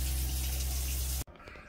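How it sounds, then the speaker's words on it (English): Water runs steadily from a faucet in a camper being de-winterized, a loud rushing stream that is suddenly cut off, leaving quiet room noise behind. "We're going to go to each faucet. We're going to turn each one on for a couple minutes, turn it off"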